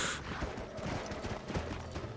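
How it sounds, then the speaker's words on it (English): Hooves clop steadily as a horse moves along in Red Dead Redemption, giving a continuous, moderately loud rhythm of thuds that runs throughout with no talking over it. "now we know how to stop the horse"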